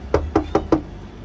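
Four sharp knocks on a door at an even, quick rhythm, close and clear, with no talking.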